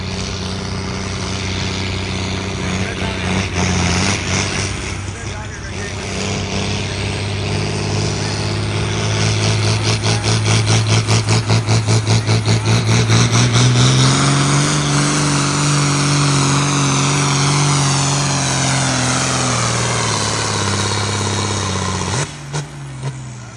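A Light Limited Super Stock tractor roars through a tractor pull, its engine loud and close, climbing steadily in pitch as it strains down the track, then cutting off abruptly near the end.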